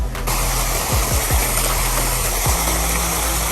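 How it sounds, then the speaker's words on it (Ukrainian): Steady rushing water roars throughout at an amusement park, broadband and constant, with a few faint low thuds or knocks passing underneath. "Вода шумит."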